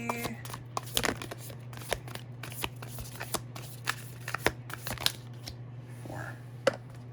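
Tarot cards being shuffled and drawn for a reading, a steady run of soft papery riffles and crisp snaps close by, with a low constant hum underneath and no talking.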